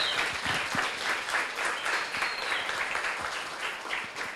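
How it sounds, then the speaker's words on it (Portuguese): Audience applause at a documentary screening event, a continuous crackling patter of many hands at moderate volume, with occasional heavier claps standing out from the steady wash. "Aplausos, por favor."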